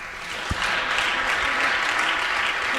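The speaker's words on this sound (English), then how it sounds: "Please give the authors big applause." An audience at an awards gala ceremony breaks into sustained applause, a thick even wash of clapping from the hall with one sharp thump near the start.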